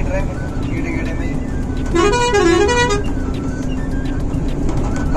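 Heavy road traffic near Surat, India rumbles continuously while a loud vehicle horn blares for about a second in the middle, with lighter toots and engine noise around it.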